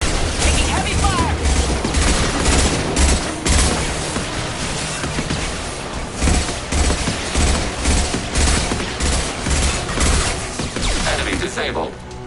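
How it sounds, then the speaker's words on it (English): Heavy sustained gunfire in Mass Effect 2, rapid overlapping bursts and booming impacts filling the whole stretch, with combat voices shouting over the shooting. "Taking heavy fire!"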